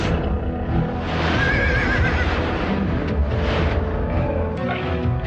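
A horse neighs and whinnies loudly and close by, with a continuous shrill, wavering call over a dense, busy background throughout.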